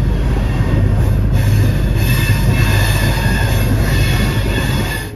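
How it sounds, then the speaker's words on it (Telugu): Yesvantpur–Shivamogga Town Intercity Express pulling out of Tumkur railway station, heard from inside the coach: a loud, continuous rumble of rolling wheels with high squealing from the rails, steady throughout and fading slightly at the end. "తుమ్కూరు రైల్వే స్టేషన్ నుండి మన ట్రైన్కి అయితే సిగ్నల్ వచ్చేసింది, స్టార్ట్ అయిపోయింది అనమాట."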